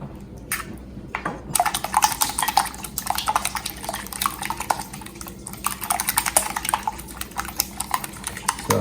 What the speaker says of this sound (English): We have to beat 2 to 3 eggs